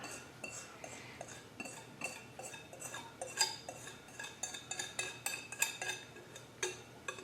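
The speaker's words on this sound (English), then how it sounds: "We're going to take our whisk and we're going to make sure all of that goodness, all those spices get down there." A whisk clinks and scrapes against a bowl while stirring a soy sauce, honey and spice marinade for beef jerky, a series of light metallic ticks growing more rhythmic and pronounced in the second half.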